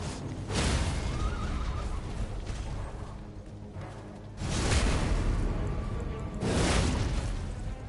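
A horse in the video game Elden Ring gives loud whinnies over dense, rumbling in-game combat noise. Three strong surges come roughly two seconds apart.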